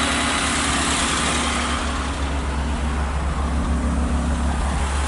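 A classic Mercedes-Benz car engine idles with a steady low rumble, loud and close, holding an even drone throughout with no speech over it.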